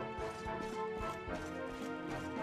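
Horse hooves clip-clop in Dragon Quest XI, a rapid run of hoof strikes at a gallop with game music running continuously underneath, fairly quiet overall.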